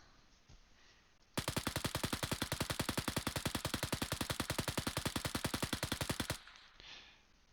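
Rapid automatic rifle fire from the Arma 3 video game with the ACE3 mod, a dense burst of evenly spaced loud shots lasting about five seconds, starting and stopping abruptly with quiet room tone on either side.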